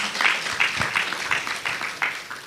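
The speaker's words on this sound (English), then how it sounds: "please give a warm round of applause for that beautiful performance" An opening-ceremony audience at a conference claps after a musical performance, scattered hand claps in loose uneven bursts at moderate volume.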